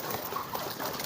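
Pigeon cooing, a racing pigeon known for strong, forceful cooing, heard as a low, close, muffled burble with no talk.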